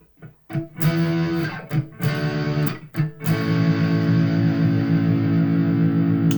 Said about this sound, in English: this is the neck pickup, right? Without the split going on.